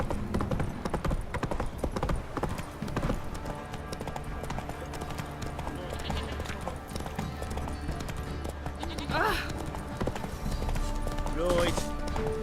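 Roach, the horse in The Witcher 3, gallops with steady clip-clop hoofbeats under game music, and voices speak briefly over them.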